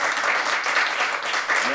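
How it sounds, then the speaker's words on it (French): Public applause from a street crowd cheering on the Maxi Banque Populaire V sailing crew, a steady dense clatter of many hands lasting the whole moment at close range. "il va y avoir quelques petits applaudissements."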